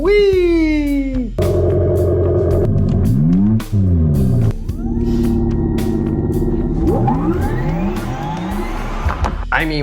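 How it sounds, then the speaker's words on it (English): A classic car's engine and exhaust rumble loudly and up close, revving up and down in repeated swells with a deep, throaty tone that holds steady between the revs. "sound of the escaping exhaust gases without it being strangled by 4 carburetors"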